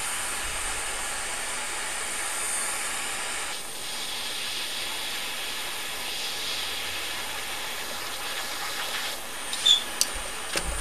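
Steady hiss of a torch flame heating a wedding ring all the way around, soft and continuous, with a few faint clicks near the end.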